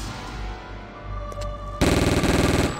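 A sniper rifle shot in the video game Sniper: Path of Vengeance, set at an old monastery, bursts in loud and sudden after a quiet stretch, with a harsh rattling tail that lasts about a second.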